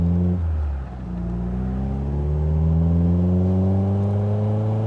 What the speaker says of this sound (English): I like your exhaust though.